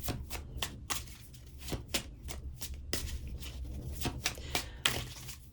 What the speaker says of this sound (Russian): тасую колоду, загадывайте вашего партнера